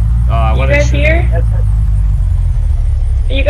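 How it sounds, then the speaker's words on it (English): A car engine in the video game Unturned gives a steady low rumble nearby throughout, while a voice talks over it in short bursts at the start and end. "I hear a car."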